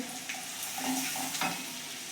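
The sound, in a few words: spices frying in pan, turmeric and coriander-cumin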